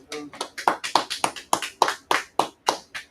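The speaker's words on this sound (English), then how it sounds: "All right, clap it up." A dozen or so sharp, rhythmic claps ring out in quick succession, evenly spaced and close. They sound like a small group or a single pair of hands rather than a large crowd, with no talk.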